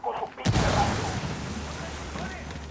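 A frag grenade in Ghost Recon Wildlands bursts with a sudden heavy boom that rolls off into a long rumbling decay, with a voice talking briefly before it.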